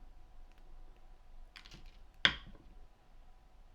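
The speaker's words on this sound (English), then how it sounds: "And I'm going to cut off the excess wire" Wire cutters snipping off excess wire while making a wire-wrapped bead bracelet, a single crisp close click preceded by faint handling ticks in a quiet room.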